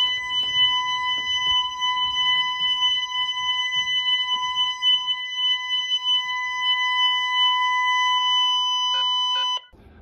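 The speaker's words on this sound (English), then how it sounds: "it sets off an annoying loud sound and that'll notify you something's going on." A home security glass-break alarm sounds during a test, a loud steady multi-tone electronic wail held for about nine seconds before cutting off abruptly, with faint rustling underneath.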